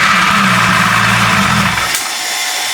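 A noisy 4.0 car engine idles close and steady with a low rumbling drone and a clattery top end, then cuts off near the end, leaving quiet room noise.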